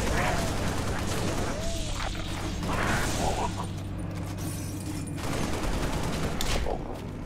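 Gunfire and laser blasts in a Halo: Reach firefight, a steady rattle of rapid shots under a constant low hum, with sweeping laser zips and occasional speech.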